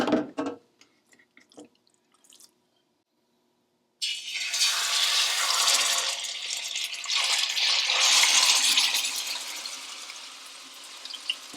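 Marinated chicken breasts dropped into a hot pan, a sudden loud sizzle that bursts in after a few quiet seconds of small clinks and keeps crackling steadily.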